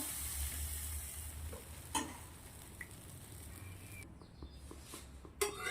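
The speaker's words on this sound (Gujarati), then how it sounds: "હવે આપણે તવો ગરમ થઈ ગયો છે, તો તવાના અંદર થોડું થોડું આપણે આવી રીતે બેટર મૂકી દઈશું." Wheat flour batter sizzling on a hot griddle, a soft steady crackling hiss close by, broken by a few small clinks and scrapes as it cooks.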